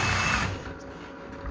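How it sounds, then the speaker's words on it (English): An electric drill of about 1700 RPM, mounted on a lawnmower for an air-conditioning rig, whirs steadily close by, loud at first and then settling to a lower, continuous hum. "this drill is like 1700 RPM. I can feel that several feet away."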